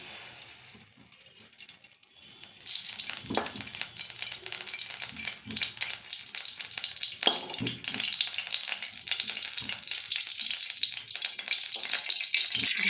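Oil heats in a hot pan before tempering and starts to crackle and sizzle, a soft start that swells into a continuous close frying hiss with a few scattered clicks and pops.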